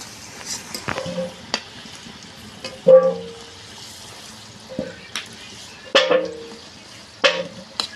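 Mutton frying in a pan for a goat meat curry gives a quiet sizzle, broken by several sharp scrapes and clatters as pieces are moved and lifted out.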